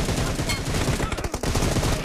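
Dense, continuous bursts of automatic gunfire from the PUBG Mobile battle royale game crackle loudly throughout, with a brief dip midway before the rapid shots resume.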